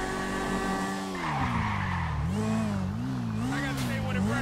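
In Grand Theft Auto 5, a car engine hums with a rising and falling pitch while tires squeal and skid repeatedly, loud and close, with a voice talking faintly in places.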